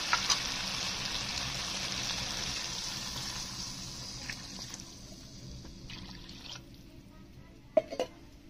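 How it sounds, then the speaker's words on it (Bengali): Water poured into a cooking pot of sautéed eggplant and potato for a fish curry makes a soft gushing rush that fades and thins out, followed by a few faint clinks. "এবার আমি জল দিয়ে দেবো।"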